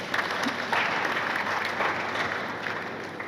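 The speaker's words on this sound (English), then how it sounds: "A round of applause" Steady round of applause from a seated audience of officials and traditional rulers at a state budget stakeholders forum in Enugu, a dense clatter of many hands filling the room for a few seconds.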